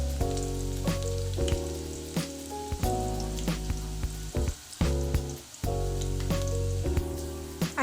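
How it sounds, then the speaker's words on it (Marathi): Onion sautés in a pan for a beans aloo masala stir fry, with a continuous hiss and sizzle and repeated utensil clicks. Steady tonal music plays loudly over the cooking throughout. "त्याला छान परतून घ्यायचं।"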